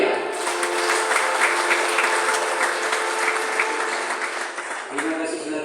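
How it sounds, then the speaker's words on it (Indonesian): Congregation applauding in a Salvation Army church during a Sunday holiness service in Bandung, a steady dense wash of clapping that fills the clip and thins slightly near the end, with some voices mixed in. "baru kita beri tepuk tangan"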